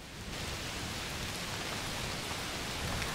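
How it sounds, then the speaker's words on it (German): Heavy rain falls in the video game A Plague Tale Requiem as a steady, dense hiss of rain, fairly faint and unbroken, with no voices. "Oh, es regnet ganz schön doll."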